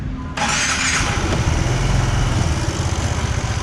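An Aprilia SXR 160 scooter starts up with a short burst, then settles into a steady, close idle that runs to the end with no talk.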